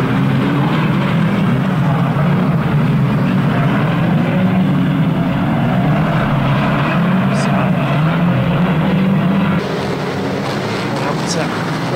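Many 2-litre banger racing cars roar away together at the green-flag start of a National Banger Grand Final, producing a loud, dense, continuous engine rumble that holds steady throughout.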